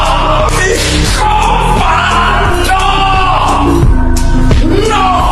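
A person yells and shouts loudly over a busy musical backing, with sustained voiced cries across the span and a brief louder burst near the end.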